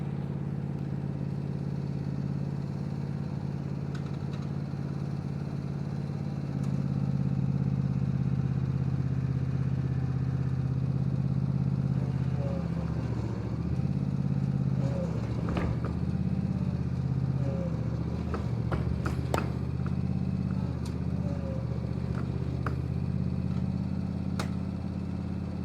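A lawn tractor engine hums steadily and then labours louder as it pulls a load with straps, with clattering knocks and strain sounds mixed in toward the end.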